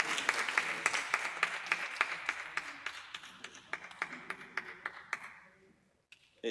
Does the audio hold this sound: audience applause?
yes